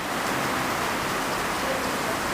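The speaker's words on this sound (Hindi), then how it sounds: "बारिश बहुत तेज़ होने लगी है, उनकी आवाज़ें आ रही होगी आपको।" Heavy rain falls steadily throughout, a dense, even hiss of downpour with no pauses or voices.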